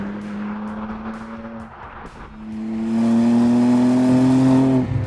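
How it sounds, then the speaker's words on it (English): A BMW M2 coupe's engine revs hard while driving, holding a steady tone, then climbing to a louder, higher-pitched strained howl that cuts off near the end, loud and close with no talk. "it's not turbo whistle you're getting, it's proper engine noise"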